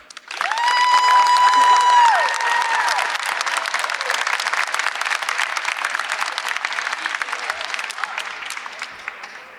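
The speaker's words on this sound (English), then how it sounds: "If we can give another round of applause for all of our poets" Audience at the Capitol Rotunda applauding student poets, a full crowd clapping steadily throughout, opening with a brief sustained musical tone before the dense applause carries on and slowly thins.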